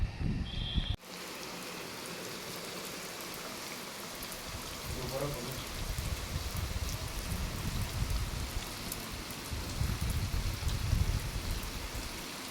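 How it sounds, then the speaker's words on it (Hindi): Steady monsoon rain patters on surfaces with a dense, hissing wash that swells slightly louder toward the end. "और थोड़ी ही देर में देखिए क्या बारिश आई है"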